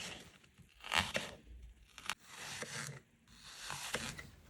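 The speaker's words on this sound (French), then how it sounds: "Je retire l'autre oignon et je la coupe en tranches" A knife slicing an apple into rounds for a stovetop gluten-free apple cake: a few crisp crunching cuts in uneven rhythm, close and fairly quiet, with no talking.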